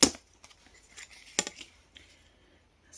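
A craft knife slicing through old paper, heard as a sharp scratchy cut at the start and another midway, with small faint scraping and tearing sounds between them, close up and without speech.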